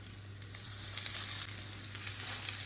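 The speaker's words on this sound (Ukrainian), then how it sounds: "І викладаю котлетки смажити." Chicken cutlets frying in a hot pan over low heat, a steady soft crackle with occasional pops and a low hum beneath, close by.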